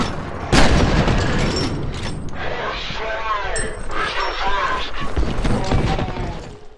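Slowed, muffled gunfire in the video game F.E.A.R. during slow motion: a deep boom opens, then heavy, dulled shots and rumbling impacts stretch out over a low drone, with voices partly underneath.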